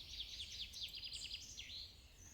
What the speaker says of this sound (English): there are no sounds other than the occasional birdsong